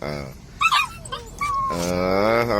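Hungry puppies whimpering and yipping before breakfast, a few short high whines close by, then a sustained whiny cry that runs to the end.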